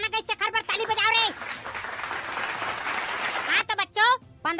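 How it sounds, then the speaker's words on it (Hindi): A crowd claps in a burst of applause at an Independence Day cartoon comedy program, the dense clapping sitting between stretches of lively cartoon-style voices talking before and after. "खरबर ताली बजाओ रे"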